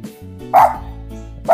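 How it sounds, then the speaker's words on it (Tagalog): A dog barks in short bursts at the doorway of a house with plants outside, two loud, close yelps separated by a quieter stretch with a low hum. "may aso"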